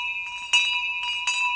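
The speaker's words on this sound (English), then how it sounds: "that's Timo, the bell ringer, letting us know it's time to go" A bell ringer strikes a bright bell twice, each ring starting with a crisp clang and a sustained, shimmering metallic tone that rings on steadily between strikes, clear and close with no talking.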